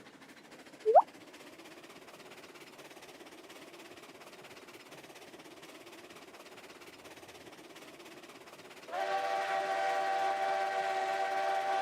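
A locomotive in the railroad game Railroads Online rumbles along steadily, with a brief rising whistle tone near the start and a louder harmonic whistle or horn sounding continuously over the last few seconds.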